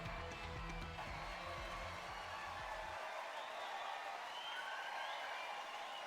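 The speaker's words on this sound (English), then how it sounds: "The audience clapped and cheered." Audience applause and cheering at a concert in a visual novel game, a dense steady wash of clapping that carries on evenly, heard alone and fairly loud.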